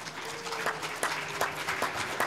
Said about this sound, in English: I'd like to give everybody a big round of applause for all the work that you guys do